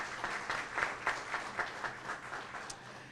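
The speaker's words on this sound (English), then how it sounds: "We have a round of applause for all of our other sponsors." An audience at a chamber of commerce luncheon applauds the event sponsors, a steady wash of clapping heard from a distance and fairly quiet throughout.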